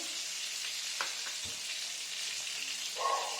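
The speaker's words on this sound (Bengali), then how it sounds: "এগুলো কড়া করে আমি ভেজে নিচ্ছি" Fish pieces, including head-end and tail cuts, fry until crisp in oil, a soft steady sizzle with a few faint clinks and a light knock, fairly quiet and continuous with no speech.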